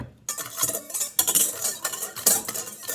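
A utensil stirs pancake or crepe batter in a bowl with rapid, close scraping and clinking strokes in an irregular rhythm, and no talking.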